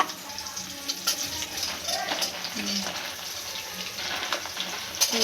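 Washed sprouted gram seeds drop into a hot pan and begin frying for a sambar, giving a soft, steady sizzle with a few clinks and stirring scrapes, fairly close and moderate in level.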